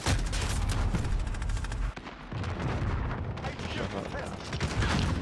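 Dense gunfire and explosive blasts from a Call of Duty: Modern Warfare multiplayer match, including a rocket launcher fired at close range, loud and continuous with a brief dip before the barrage resumes.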